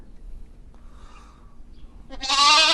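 Lambs in a pen give one loud bleat close by at the end, after a quiet stretch with faint background sounds.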